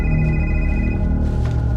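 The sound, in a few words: telephone ringing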